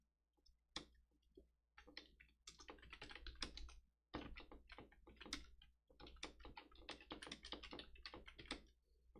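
Rapid clicking on a computer keyboard, close and quiet, in bursts of keystrokes separated by brief pauses, with a low steady hum underneath.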